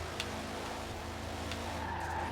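A car skids sideways in a racing video game, its tyres giving a sustained loud scrubbing squeal over a steady engine drone, close and continuous with no talking.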